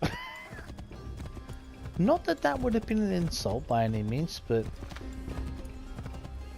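A horse in Assassin's Creed Odyssey whinnies loudly at close range, with hoof clip-clops and game ambience around it, while someone talks over and between the sounds.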